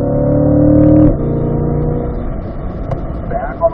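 A 2020 Corvette C8 mid-engine car on a track gives a loud, steady engine drone that drops off sharply after a second, then settles into a quieter running tone, with rougher noise near the end.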